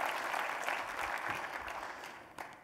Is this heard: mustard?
no